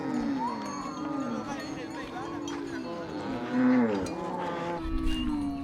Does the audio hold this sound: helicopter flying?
no